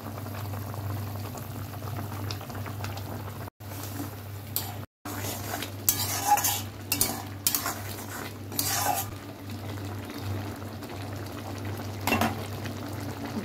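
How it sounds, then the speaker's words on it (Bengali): Eggs are added to a bubbling Bengali egg curry and stirred in a pan, with a steady boiling simmer underneath and intermittent clinks and scrapes of a utensil against the pan. "ঝোলটা ফুটে গেছে, এবার দেবো ডিম।"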